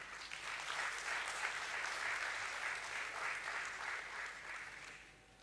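Audience applause at a stock exchange listing ceremony, a steady dense wash of many hands clapping that holds for several seconds and then tapers off at the end.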